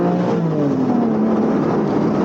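Engine of a Porsche 718 GTS 4.0 revs steadily and loudly up close, a continuous sustained drone with a rising tone as the car auto-blips on a downshift.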